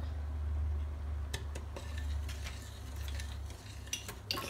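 A spoon stirs soup in a pot as it comes to a boil, with scattered clinks and scrapes against the sides over a steady low stovetop rumble, close and moderate in loudness.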